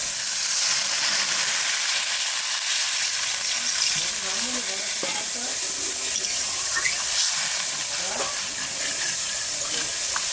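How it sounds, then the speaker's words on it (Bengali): Water is added to masala frying with turmeric in a pan, producing a continuous loud sizzle and bubbling hiss with occasional stirring scrapes, steady throughout. "এবার জল দিয়ে দেবো।"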